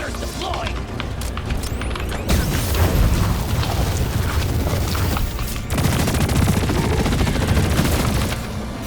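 Gunfire in the video game Deep Rock Galactic during an elite deep dive in crystalline caverns, with dense sustained bursts and booms continuing steadily throughout, with a voice speaking over it.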